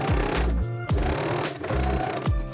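A sewing machine stitches dress shirt flaps onto front panels in short repeated bursts, its motor whirring up and down in an uneven rhythm, close and moderately loud with no talking.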